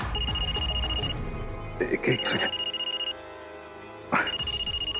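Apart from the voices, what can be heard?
telephone ringing with an incoming call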